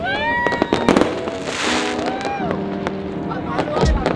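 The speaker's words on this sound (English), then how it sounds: "But now let's see the fireworks." New Year fireworks over Bangkok, with crackling bursts, whistling rising shells and sharp pops layered densely and continuously, loud and fairly distant, with no talk.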